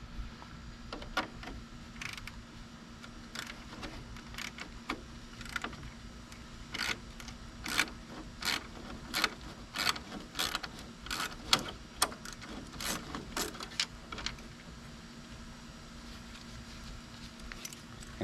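A small 1/4 inch ratchet with a 10 mm socket works on a Silverado pickup, making a series of faint, quick clicks in uneven bursts over a low, steady hum.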